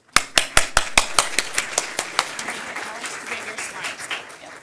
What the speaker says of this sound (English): So without further ado, please give them a warm round of applause.